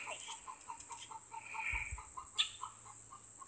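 Chickens on a small micro farm cluck in a soft, steady series of short calls, fairly close, over faint outdoor background noise with no talking.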